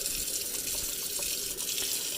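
Tap water runs steadily over plastic discs dyed with hair dye as they are rinsed at a sink. The flow is a continuous, fairly close splash with small shifts in tone and no voices.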